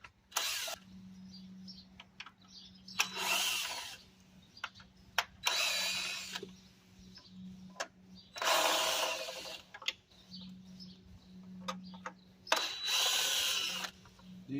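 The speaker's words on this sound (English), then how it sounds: "Let's go ahead and start taking them bolts out." A power tool backs out the oil cooler bolts on a 2011-2023 Dodge Challenger, firing in about five loud, close whirring bursts separated by short pauses, with a low steady hum running underneath and no talking.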